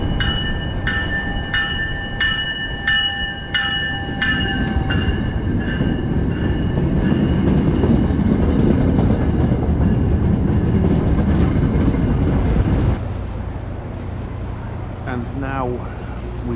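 An MBTA commuter rail train rolls into a station with a steady rumble while steel wheels squeal in high, sustained tones, then the noise drops and brief screeches follow near the end.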